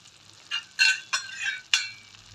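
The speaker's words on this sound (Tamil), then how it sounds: "ஆயில் ஊற்றி இப்போ கிண்டுறோம்." Penny pasta being stirred with oil in a pan, a spoon scraping in several quick, uneven strokes, with soft sizzling between them.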